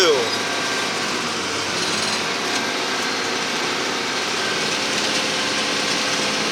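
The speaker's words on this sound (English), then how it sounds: "Throttle up and start grabbing gears." Tractor engine throttled up to drive a round baler, a loud, steady mechanical drone with a bright whine, holding constant and close for the whole stretch.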